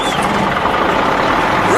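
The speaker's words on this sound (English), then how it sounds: "Bulldozers, start your engines." Bulldozers fire up at a demolition site, giving a loud, close, continuous diesel rumble with a hissing top end that holds steady throughout.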